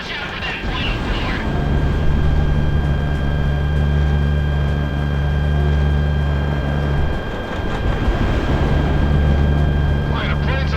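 A fighter jet flies in the combat flight game Project Wingman, a loud, steady engine drone with a constant hum that dips briefly near the end before resuming.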